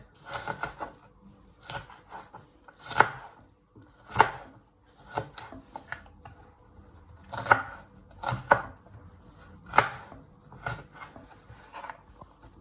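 A knife dices onion on a chopping board while cottage pie is being made, giving irregular, crisp chops up close, some in quick pairs and others spaced apart, with no talk over them.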